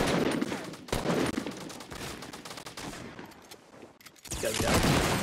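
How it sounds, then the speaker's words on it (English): Shotgun fire in the video game Fortnite during a squad fight: heavy, close blasts and bursts of shots over busy battle noise, with a quieter lull before the firing picks up again. "We literally hit him with a shotgun."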